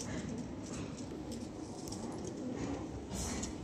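Pigeons coo softly and repeatedly against a noisy background.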